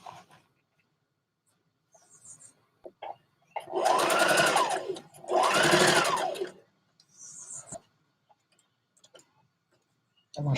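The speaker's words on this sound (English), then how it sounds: "So I'm going to top stitch it" A sewing machine top stitches a dress facing in two loud, steady bursts of rapid needle clatter separated by a short pause, with small handling clicks before and after.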